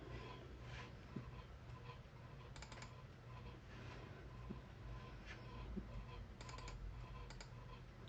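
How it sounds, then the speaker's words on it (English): Faint computer keyboard and mouse clicks, sparse and irregular, against a steady low background hum during a digital drawing tutorial. "you hear me clicking through it?"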